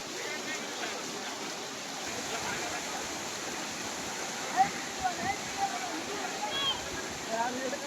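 Rain-swollen flood water of a river in Yadagiri rushes with a continuous, broad roar that stays fairly even and moderately distant, while a narrator speaks over it.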